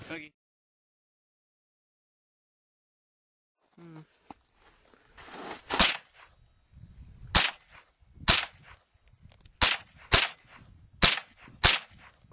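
A Smith & Wesson M&P15-22 .22 rifle firing at a moving target: after near silence and some faint handling, about seven sharp cracks ring out at irregular intervals, close and distinct.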